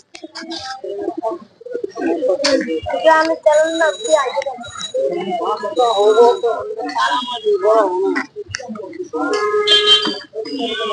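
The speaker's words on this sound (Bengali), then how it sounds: "বিশাল বিশাল বড় একটি কবুতরের হাট" Pigeons coo repeatedly in soft, throaty bursts close by at the crowded Mirpur 1 pigeon market, mixed with people talking and a busy crowd in the background.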